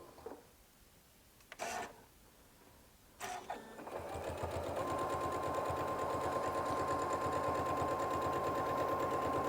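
A sewing machine stitching a zipper gives two short bursts and then settles into a steady, loud mechanical whir with a fast stitching rhythm that runs to the end.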